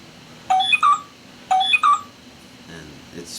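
A phone gives two short bursts of a text-message notification, each a quick cluster of bright electronic tones about a second apart, heard clearly over faint background noise.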